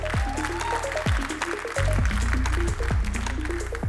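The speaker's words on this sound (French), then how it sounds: "Un peu d'applaudissements peut-être pour Avalou." Applause from an audience at a cybersecurity startup award ceremony: a dense run of claps that swells partway through and keeps going at a fairly even level to the end.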